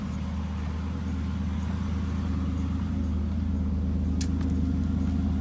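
A Ford Sport Trac truck idles with its current exhaust setup, giving a steady, deep, throbbing rumble close up throughout, with a brief faint click near the end.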